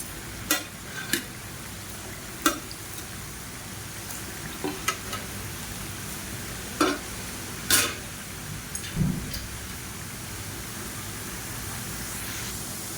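Murukku frying in hot oil: a steady, close sizzle and bubbling runs throughout, with scattered clicks and taps as the spirals are turned over on both sides. No one speaks.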